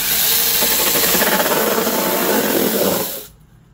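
A small 6-inch mini chainsaw bites through a cardboard Pringles can, a loud steady buzzing whine for about three seconds that stops abruptly, leaving near silence.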